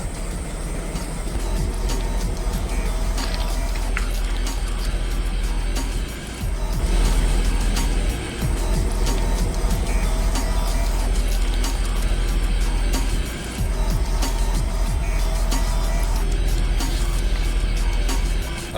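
A 24-ton lorry rolls over a G-Shock watch, its heavy engine and tyres giving a loud, continuous low rumble with road noise that holds steady throughout, briefly dipping twice.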